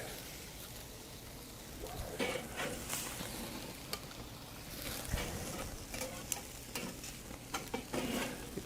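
Burgers sizzle and fry on a grill beside buttered buns, a steady crackling hiss with scattered sharp pops and spatters, fairly quiet and close, with no talking.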